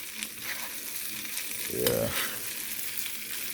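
Sliced barbecue chicken sizzles steadily in a small frying pan, with a brief louder scrape of stirring midway; a voice speaks one short word.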